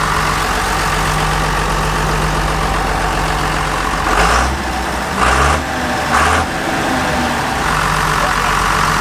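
Engine of an abandoned combine harvester running after its filter was removed, a steady loud idling rumble throughout with a few brief louder bursts in the middle, no talk.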